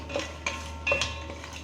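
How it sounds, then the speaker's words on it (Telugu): Peanuts being roasted in a pan for a homemade children's snack, giving a few light scraping, clinking stirs at irregular intervals, close and moderately quiet, with no voices. "సో పీనట్ బాగా రోస్ట్ అయిపోయినాయి"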